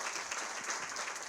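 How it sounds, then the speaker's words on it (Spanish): An audience at a Spanish-language film club screening applauds in a brief, steady wash of clapping, moderately loud and with no voices over it. "Estaremos con un aplauso,"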